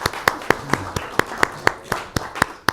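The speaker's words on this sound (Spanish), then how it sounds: "Vamos a hacer un pequeño aplauso" A small round of applause at a panel debate on the future of big cities: a few people clapping sharply and unevenly, roughly a dozen crisp claps in under three seconds.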